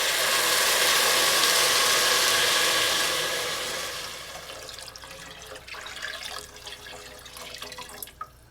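Chicken stock poured over red lentils in a pot: a loud steady rushing splash for several seconds that tapers off into quieter drips and small clinks.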